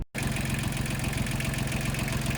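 Tractor engine running steadily close by, a loud continuous rumble with a fine rapid pulsing throb after a brief silent gap at the start, with no talking.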